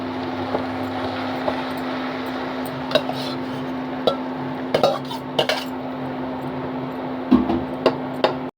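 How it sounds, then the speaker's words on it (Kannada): Cooked jeera rice is mixed in a metal pot for dal fry, with a run of light spoon scrapes and clinks against the pot over a steady low background hum. "ಅನ್ನ ರೈಸ್ ಎಲ್ಲ ಮಿಕ್ಸ್ ಮಾಡಿದೆ"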